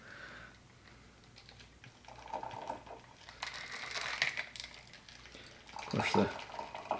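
A shaken espresso martini is poured from a cocktail shaker into a glass, faint rattling and clicking building to a brief splashy pour near the end, heard close with some room noise.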